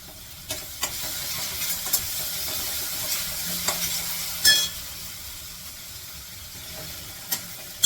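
Soft sizzling of spices with ginger-garlic paste sautéing in a pan for pav bhaji, with occasional scraping stirs and light clinks over a low background rumble.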